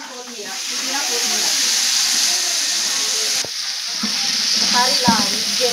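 A pot of curry cooked in bulk for a family function is stirred and mixed, producing a loud, continuous sizzling hiss with faint voices murmuring in the background.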